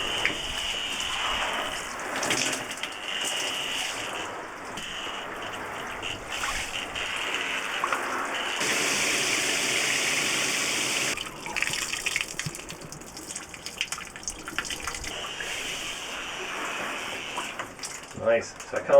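Water sprays and gushes steadily from a recirculating shower in a Transit campervan with PVC tiles, with people talking over it at times and a brief louder burst midway.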